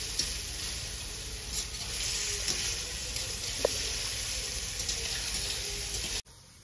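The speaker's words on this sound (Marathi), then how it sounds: "आपलं आता पनीरचं तुकडं तळून घेऊ आपण" Paneer pieces frying in oil in a pan at home, a steady broadband sizzle with faint water-like hiss that runs evenly, then cuts off abruptly near the end.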